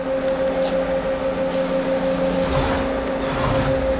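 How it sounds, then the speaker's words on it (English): A Doosan Puma 240MC CNC turning center with milling jogs its axes, a steady close mechanical hum with a strong tonal whine and a rushing swell as the axes move, no voices. "We'll jog the axes."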